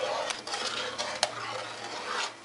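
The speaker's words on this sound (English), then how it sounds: "put it on around medium heat and start stirring" A utensil stirs a caramel mixture in a pot over medium heat, with soft scraping and occasional light knocks against the pot over a gentle bubbling hiss, close and steady.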